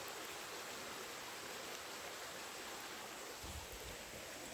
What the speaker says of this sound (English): There's a smaller waterfall.